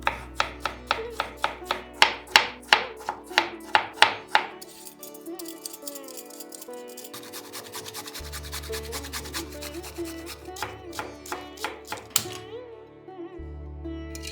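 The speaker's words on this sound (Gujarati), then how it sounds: "અથવા તો તમે આ ટાઈપનું ચોપર લઈ લો" Vegetables are chopped in a manual pull-cord hand chopper, with a run of sharp, evenly spaced rattling clicks followed by quieter churning and further clicks, and no voice over them.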